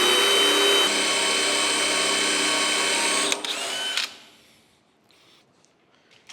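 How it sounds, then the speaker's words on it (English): A power drill whines steadily for several seconds while boring a hole through a cast iron cane mill casting, then winds down and stops, leaving near silence with a few faint clicks. "I'm just going to drill a hole all the way through the casting right here."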